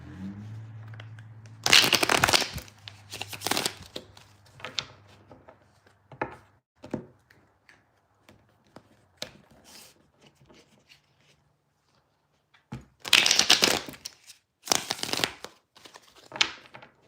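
Tarot cards are shuffled at close range in a living room, with several bursts of crisp riffling and rustling separated by quieter handling and pauses.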